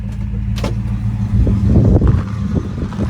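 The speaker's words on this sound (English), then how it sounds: "exhaust sounds great on this car too." A 1973 Buick Riviera Boattail with a 455 V8 rumbles through its exhaust close by, a low steady burble swelling briefly as the throttle lifts, with no talking.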